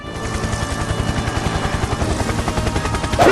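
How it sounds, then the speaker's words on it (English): Steady rhythmic thudding of helicopter rotor blades with a buzzing engine tone in the video game Left 4 Dead 2, loud and close throughout, ending in a brief burst at the close. "Helicopters."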